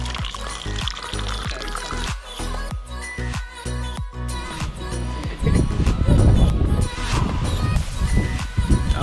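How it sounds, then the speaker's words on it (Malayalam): Tea poured from a pot at a night campsite on a hilltop, a liquid splash rising in the second half over ongoing clatter and background activity. "അപ്പോൾ നമുക്ക് ചായ ഒഴിക്കാം."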